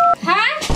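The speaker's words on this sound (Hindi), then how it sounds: "ये सुन ले मोर मोबाइल निकाल डॉक्टर के नंबर लगा जल्दी लगा" A mobile phone keypad gives a brief, loud dial tone for a single key press while a doctor's number is dialed, then a voice immediately talks over it.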